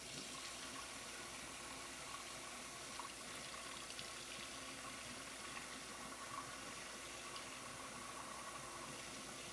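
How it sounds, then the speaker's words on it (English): Hot water runs steadily from a kitchen tap, a continuous even rush of flowing water filling a container with no pauses, close and moderately loud, no talking. "Let the water run hot."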